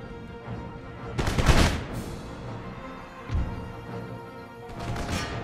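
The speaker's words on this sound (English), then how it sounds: "So you guys reload and shoot the bejesus out of them." Musket volleys from guard infantry in Empire: Total War crack out in loud, ragged bursts: a heavy crash, a shorter report, then a third volley, over a low battlefield rumble.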